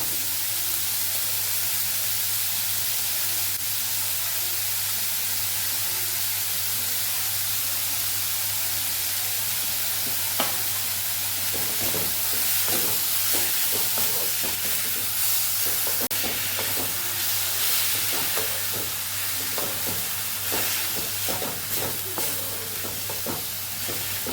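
Grated bottle gourd sautés in a pan with salt, giving a steady soft sizzle and hiss throughout, with scattered clicks of stirring in the later half.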